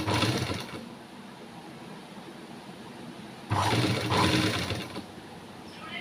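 A sewing machine stitches piping onto a blouse neckline in two short runs, a close motor whir at the start and again midway, with a quiet pause between them.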